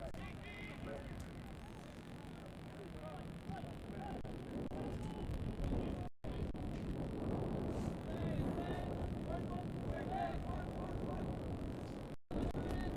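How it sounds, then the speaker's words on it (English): Gusty wind swirls across an outdoor college soccer field during a championship semifinal match, a steady broad roar buffeting the microphone throughout, with a commentator talking over it. "Windy day, the wind swirling at Shaw Field now."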